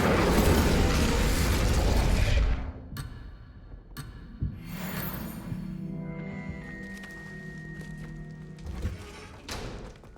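An Incendio fire spell cast in the video game Hogwarts Legacy opens with a loud, roaring fiery blast, followed by a few thuds and a sustained ringing, humming magical tone that fades under scattered game sounds.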